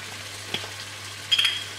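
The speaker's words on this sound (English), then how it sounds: "The egg is start to be poached and cooked with the shakshuka sauce" Eggs poach in a simmering shakshuka sauce, giving a soft, steady, low hiss of gentle bubbling with a couple of faint ticks and pops.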